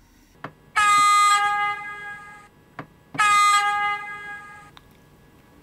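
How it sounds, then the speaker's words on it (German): Two long, loud blasts of the low signal horn on an LS Models Alpenpiercer model locomotive, each a sustained chordal tone of about a second and a half, separated by a pause and preceded by faint clicks. "Dann das Signalhorn tief."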